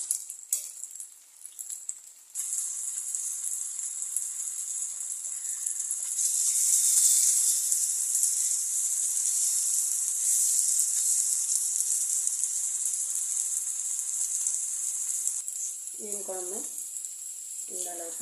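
Fish frying in hot oil, a loud steady hiss and sizzle that swells and holds close by for many seconds, with a brief bit of talking near the end.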